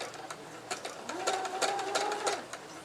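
Sewing machine stitching a seam on a 60-degree diamond quilt, sewn at a slower pace than usual, with close, quiet rhythmic needle clatter that rises into a steady run midway.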